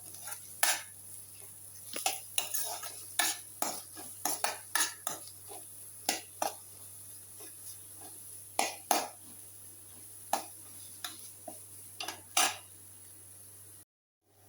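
Onions fry in a pan for spicy mac and cheese while a spoon stirs them, sharp irregular clinks and scrapes of metal on the pan over a steady low hiss, close by.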